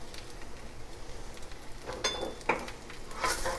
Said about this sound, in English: Got a big wok of stir fry.